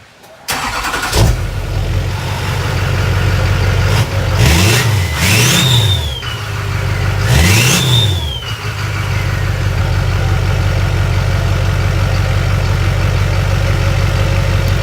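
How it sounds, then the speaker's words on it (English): A loud Duramax diesel truck engine with its muffler cut off idles with a deep, raw rumble, punctuated by several sharp revs that rise and fall before settling back to a steady idle. "I'm going to cut this off and we're going to hear what it sounds like without a muffler"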